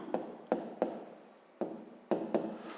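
Pen writing on paper during a fifth-grade maths exercise, with a few short close scratching strokes and taps separated by brief pauses.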